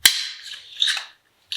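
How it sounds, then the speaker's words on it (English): A sharp snap as a clamp clicks onto a wooden jig, followed by a short rattling scrape and a second small click, close and crisp with no voices. "Clamp clips right in here."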